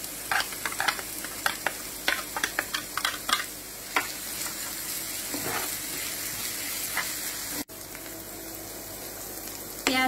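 Onions frying with onion paste for chicken biryani sizzle steadily while a spoon scrapes and stirs in quick repeated clicks, then the sizzle settles into a smooth hiss after a brief cut.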